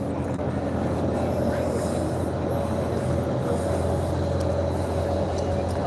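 A train stands at the Port Dock railway platform, with a steady low rumble of an idling engine and continuous background noise.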